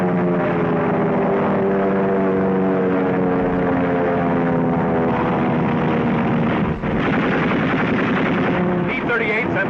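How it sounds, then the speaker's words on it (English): Propeller fighter planes, a Spitfire and a Messerschmitt, roar through a World War II dogfight over North Africa, with dense, continuous engine drone and bursts of gunfire filling the scene from start to finish. "This is a dogfight. A Spitfire dives on a Messerschmitt."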